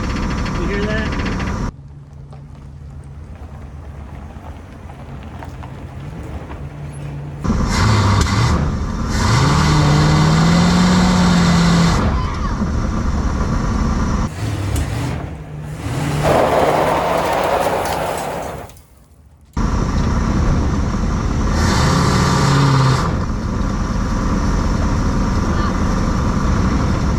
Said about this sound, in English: Tires rub like crazy.